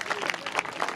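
Audience at an annual school prize distribution ceremony clapping to welcome an arriving guest, a brief burst of moderately loud, mixed applause from a crowd.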